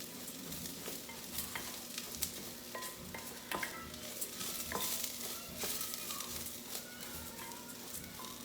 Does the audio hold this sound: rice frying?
yes